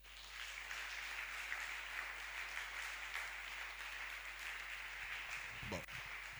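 A church congregation claps and cheers in praise of the Lord, sustained dense applause filling the room at an even level, with a few voices mixed in and fading near the end.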